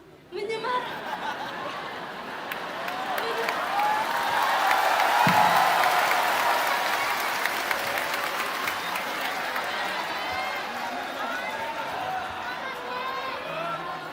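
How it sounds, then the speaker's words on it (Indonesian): Audience applause in a school hall in Yogyakarta, a sustained wash of clapping from a crowd of students that swells and holds for several seconds, with scattered chuckles and chatter mixed in. "Tepuk tangan dulu dong"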